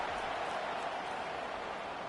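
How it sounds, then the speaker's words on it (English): A home crowd at a Michigan football game against Fresno State roars steadily from the stands, a dense, continuous wash of cheering noise that fills the stadium without a break. "Listen to this crowd just shaking the girders of this place trying to help their defense."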